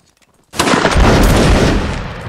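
Musket volley fired in a Napoleonic Wars line-battle video game: one loud, near, massed crack after a short silence, rolling on as a sustained roar of overlapping shots that slowly fades.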